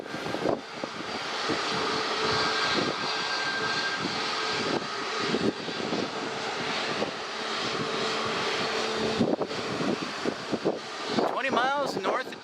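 A jet airliner arriving at Dallas Love Field, a loud, continuous engine roar with wind noise on the microphone, heard close and without talking.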